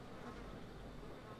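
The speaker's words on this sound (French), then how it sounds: "Là, il y a de la mouche." Flies buzz faintly and continuously in the video game The Evil Within 2, a soft, steady drone with nothing else over it.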